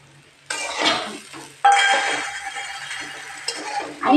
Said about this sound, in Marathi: निम्मा तर परतत आलाय आपला शाबू